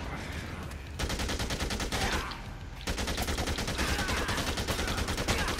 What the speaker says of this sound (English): Ow! That shotgun.